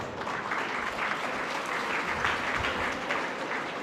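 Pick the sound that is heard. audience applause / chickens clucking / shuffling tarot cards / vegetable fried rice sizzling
audience applause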